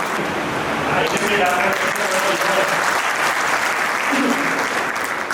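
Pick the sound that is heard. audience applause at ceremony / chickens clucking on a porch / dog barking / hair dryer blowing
audience applause at ceremony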